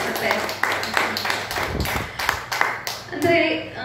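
An audience at a folk and light music programme claps in scattered, uneven bursts, moderately close, while a voice talks over it.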